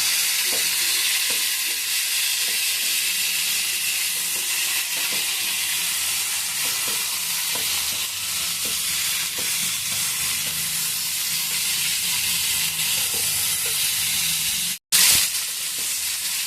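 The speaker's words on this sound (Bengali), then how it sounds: "তো দেখুন একটুখানি অন্তত 5 মিনিট এইভাবে ভেজে নিতে হবে" Egg curry masala fries and sizzles in a pan under continuous stirring, a steady hiss broken by regular scraping strokes and one sharp clatter near the end.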